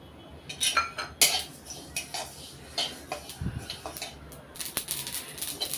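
A cup of sesame seeds dry-roasts in a pan on the stove. Light, scattered crackles and ticks sound close up, with occasional scraping clinks of a utensil against the pan and no talking.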